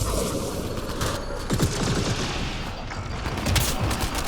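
Heavy sustained gunfire in the sci-fi shooter Mass Effect Andromeda, a dense continuous barrage of shots and impacts with booming bursts layered throughout, loud and unbroken.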